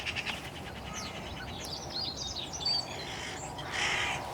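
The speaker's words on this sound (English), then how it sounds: "Moments later though, it came back with a second crow." Two hooded crows calling outdoors, a scattering of fainter rasping caws and short chirpy notes at middle distance, with a slightly louder call near the end over steady background noise.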